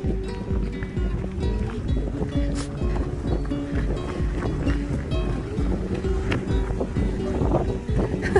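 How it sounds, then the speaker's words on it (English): Strong gusty wind buffets the microphone along the Ingleton waterfall trail near Carnforth, UK, a rough, loud rumble with irregular blasts throughout, mixed with footsteps and faint outdoor noise. "It is very, very windy at this point."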